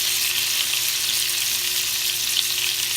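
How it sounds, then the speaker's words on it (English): Salmon fillet frying in a pan with honey and juice, a loud, steady close sizzle with faint stirring or basting sounds, no talk. "I'm going to just keep basting my salmon with the honey"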